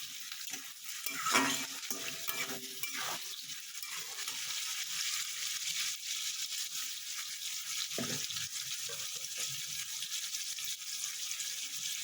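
Rohu fish pieces frying in hot oil for chilli fish, a continuous close sizzle broken by intermittent scraping and stirring sounds, with no talking.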